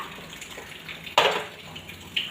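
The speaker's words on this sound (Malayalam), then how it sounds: "ഇനി അതിലേക്ക് ആവശ്യത്തിനുള്ള വെള്ളം ഒഴിച്ചു കൊടുക്കാം" Water splashes into a pot of beef curry in one sudden, close pour, with a smaller splash a moment later over a quiet background.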